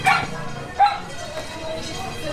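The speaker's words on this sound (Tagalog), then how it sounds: "makita na may mga aso." Dogs bark a couple of times on Abad Santos Street during a street clearing operation, with people talking nearby and traffic noise in the background.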